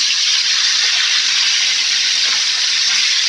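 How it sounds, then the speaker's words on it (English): Steak searing in a hot pan, a loud, dense, unbroken hiss of sizzling fat throughout, close up and with no voices. "you definitely got a nice sear going on there"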